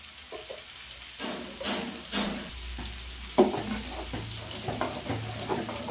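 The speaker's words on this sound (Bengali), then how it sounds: "তার আগে দিয়ে দেবো একটু ঘি।" Ghee spooned into a pot of finished khichuri sizzles softly, with stirring scrapes and a few utensil knocks over steady low kitchen noise, no talk.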